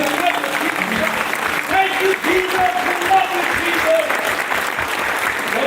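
A church conference congregation applauds, a thick, sustained wash of clapping from a large crowd with faint voices and cheers mixed in, steady and loud throughout.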